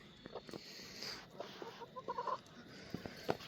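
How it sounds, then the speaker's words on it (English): Backyard hens clucking in soft, scattered bursts, some close and some farther off, with quiet shuffling in between. "Chicken."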